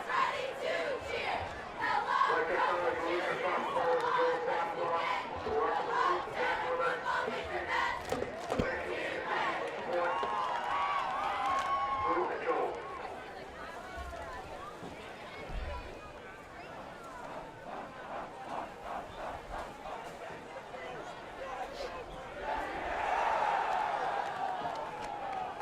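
Crowd noise at a high school football game: a broad, continuous murmur and cheering from a packed stand, with a voice speaking over it and a swell of cheering near the end.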